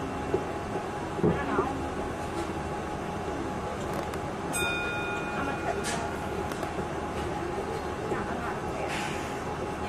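The Disneyland monorail glides along with a steady, low interior rumble and faint electronic tones, while a recorded voice speaks over it.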